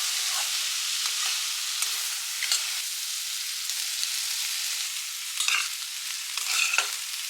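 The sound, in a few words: stir-frying broccoli rice with garlic and chili flakes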